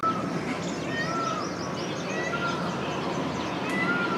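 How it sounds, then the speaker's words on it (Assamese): Birds calling repeatedly at early morning outdoors, including a harsh, meow-like cry over a steady background hum; a voice can be heard faintly. "এয়া মূৰা চৰাই মাতি আছে"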